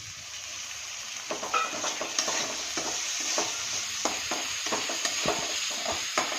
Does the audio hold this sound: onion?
yes